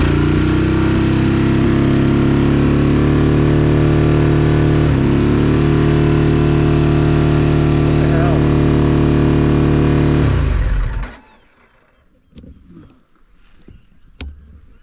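A Harley Davidson Pan America motorcycle engine runs loud and close with a steady throb for about ten seconds, then cuts out abruptly, leaving faint handling noises.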